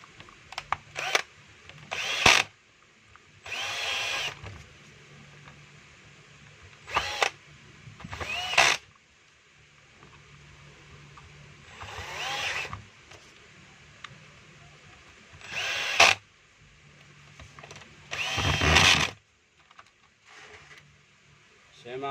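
A repaired DeWalt DWD014 drill with fixed wiring, heard nearby as short bursts of motor whine spaced by pauses, with a person talking quietly in between.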